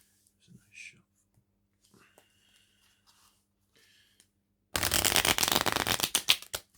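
A tarot deck is shuffled with a loud, rapid riffling burst near the end, after quiet whispering and small handling noises.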